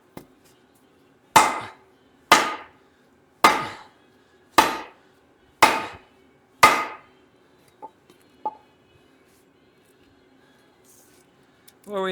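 A hammer strikes a stuck part on a 1956 Packard Clipper that sat for over twenty years: six sharp, evenly spaced metallic blows ring out close by, followed by a couple of faint light taps.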